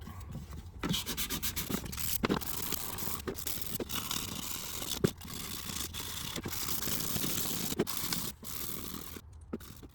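Hand sanding of dashboard trim for a 1956 Studebaker Hawk with 400 grit sandpaper, a steady close rubbing scrape with brief pauses between strokes.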